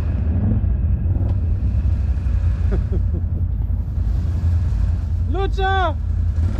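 A quad bike runs at full throttle without four-wheel drive on a dry off-road park course, its engine a loud, steady rumble throughout, with voices shouting over it.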